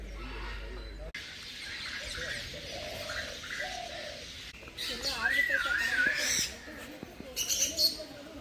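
Assorted birds including owls, pigeons and peacocks call in a zoo aviary in Mysore, with cooing and chirps rising over steady background noise and a clearer warbling call near the end.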